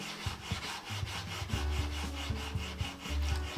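Craftsman 3.5-inch belt sander with a 60 grit belt grinding a chisel blade, a rough, rhythmic scraping rasp repeating in quick strokes over a low steady motor drone, close and moderately quiet.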